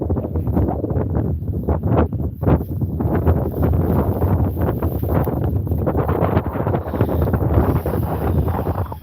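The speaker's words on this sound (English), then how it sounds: "It's starting to rain up there and getting really windy." Strong wind buffets the microphone outdoors, a steady roaring rumble with gusting surges that runs through the whole stretch, with rain starting to fall and no voices.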